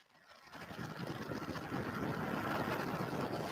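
Vulcan Centaur rocket engines igniting at launch, a broad rumbling roar that swells from near silence and builds steadily louder, heard from a distance with no voices.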